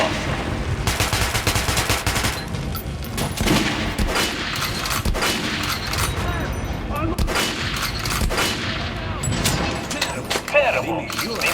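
Rapid bursts of video game gunfire from Metro: Last Light Redux on Nintendo Switch Lite, firing at an armored target arm, crackling in repeated volleys over steady game background with a voice talking throughout.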